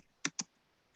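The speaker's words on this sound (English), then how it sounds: "so I got the keyboard propped up here, I can't type" Two crisp key clicks from a computer keyboard propped up on a desk, evenly spaced and close, each short and sharp against a quiet room with no talking.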